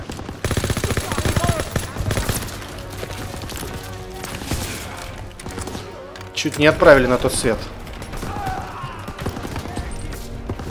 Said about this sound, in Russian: Пулемет на втором этаже!